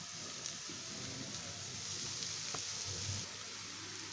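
Onions fry quietly in a pan while Bangladeshi pangas fish is being prepared, a faint, steady hiss of sizzling oil with occasional soft pops, continuous and low in level.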